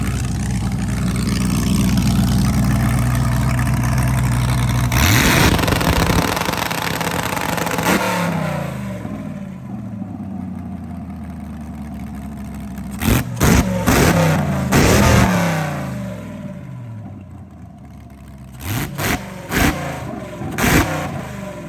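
A car fitted with a new exhaust revs hard nearby, a long loud roar dropping away, then short sharp blips of throttle in quick bursts.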